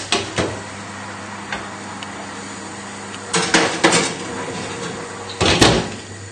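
A metal roasting pan holding pork tenderloin goes into an oven, making a few sharp metallic clanks and a louder clatter as the rack and door move. The sounds are close, set against a steady background hum.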